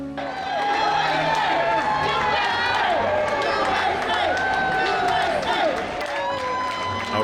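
A homecoming crowd of friends and family at Midway airport cheers, whoops and claps steadily for returning veterans, a loud, dense roar with voices calling out throughout.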